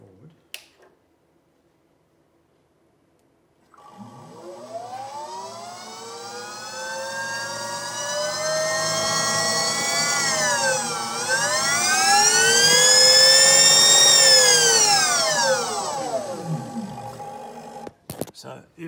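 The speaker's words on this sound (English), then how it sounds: "So if it sounds quite noisy, it's because it's driving the other motor at the moment." A Motenergy ME1718 PMAC electric motor, run by a Sevcon Gen4 controller while it drives a load motor, gives a loud tonal whine. The pitch rises, dips briefly, then climbs again before it winds down, and it sounds close.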